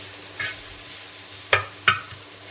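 Paneer masala with tomato being mixed in a pan over low heat, a quiet background sizzle punctuated by three distinct scrapes of a spoon, the last two close together.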